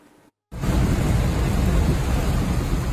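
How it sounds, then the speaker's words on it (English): Heavy torrential rain pours during the deadly Texas flooding around Kerrville. After a brief gap of silence, a dense, loud, continuous roar of downpour and thunder rumble fills the sound, with no voices. "The torrential rain early Friday morning took everyone by surprise."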